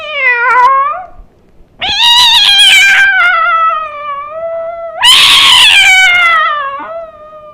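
A voice imitates two cats fighting over food, with three loud, drawn-out yowls and meows, the first short, the next two long and wavering, separated by brief gaps.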